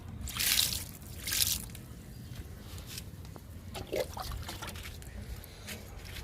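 Liquid fertilizer is poured onto a potted jasmine plant, making two soft, brief splashing trickles at the start, followed by faint low background rustle and quiet handling sounds.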